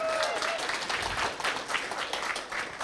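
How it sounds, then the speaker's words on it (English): An audience at a plenary talk on collective open science claps steadily for a few seconds, a dense, even patter of hands without speech. "That applause is definitely welcome."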